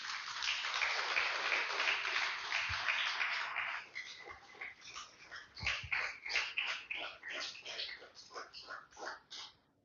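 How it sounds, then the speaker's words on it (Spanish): Church congregation applauding at a Spanish-language sermon, a dense loud wash of clapping for about four seconds that breaks into scattered individual claps and fades out. "Denle un fuerte aplauso al Señor"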